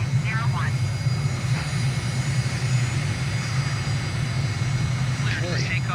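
A simulated jet engine spools up to full throttle for a takeoff run in Microsoft Flight Simulator, a steady loud low rumble with faint whining tones, with a person talking briefly over it.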